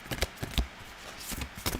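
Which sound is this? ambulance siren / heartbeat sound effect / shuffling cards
shuffling cards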